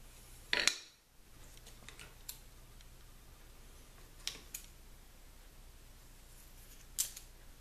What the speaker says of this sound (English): So let me get my scissors here.